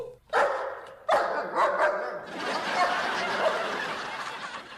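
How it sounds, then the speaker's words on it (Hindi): A dog barks close to a house in a short burst of sharp yaps that give way to a sustained noisy wash, with no clear talk over it. "अरे ये कौन कुत्ता हमारे घर के पास भौंक रहा है?"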